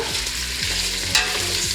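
Steady sizzling of meat pieces frying in a hot pot for bograch, searing to a crust, with a few scraping stirs and a sharp clatter partway through, no voices.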